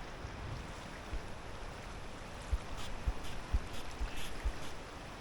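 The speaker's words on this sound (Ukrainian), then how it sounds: "Знову вітер. Далеко не такий, як по прогнозу." Steady wind rushing over open water during carp fishing, a broad even noise with faint lapping and a few soft low knocks toward the end.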